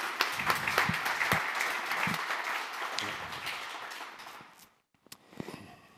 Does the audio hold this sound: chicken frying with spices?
no